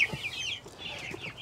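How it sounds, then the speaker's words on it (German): Light-coloured hens, young birds hatched from a backyard flock's own eggs, cluck and chirp in a brief, close run of calls. "Das sind dann hier die Hennen, die Weibchen, die hellen."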